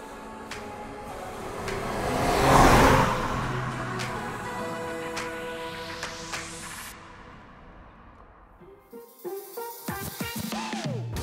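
An Alfa Romeo 156 GTA Sportwagon with a 3.2-litre single-cam 24-valve Busso V6 is driven, its engine note swelling loudly, then climbing in a smooth rising whine before easing off into rougher bursts near the end.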